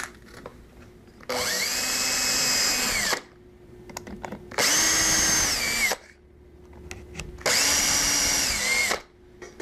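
A power drill bores into the top of a wooden workpiece for a turned accent lamp in a woodshop. Three loud, steady whirring bursts of about two seconds each are separated by short quiet gaps, with no talking.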